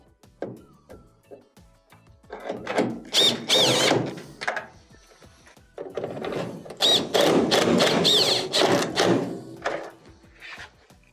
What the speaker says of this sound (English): Reinstall our 2 1/4-inch screws.